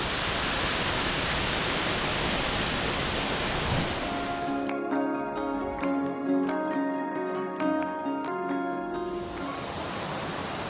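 Waterfall on a hiking trail near Nickel Falls, a steady loud rush of falling water filling the whole clip, with a brief tonal musical passage laid over it midway.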